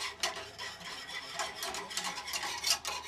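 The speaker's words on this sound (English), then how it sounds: "we're going to go ahead and put in the milk. And we're going to stir this." Spoon stirring milk in a pot on the stove, a steady scraping and swishing with soft sizzling underneath, fairly close and continuous over a few seconds.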